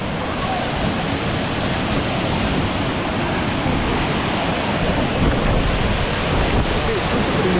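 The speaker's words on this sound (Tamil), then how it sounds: "இன்னமும் விழுது பாருங்க தண்ணி" A dense, steady roar of a waterfall fills the scene, constant and loud from start to finish.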